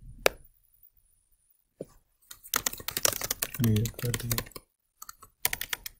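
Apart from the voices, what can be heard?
typing on a computer keyboard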